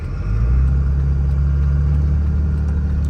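A truck engine revs hard with no gear engaged, a steady loud low rumble holding throughout without pitch changes.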